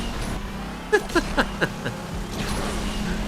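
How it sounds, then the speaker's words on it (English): A racing car engine in the video game Asphalt 8 revs in a series of quick rising bursts, four or five short roars over a steady low motor hum, close and fairly loud. "I love the froomy noises of this car."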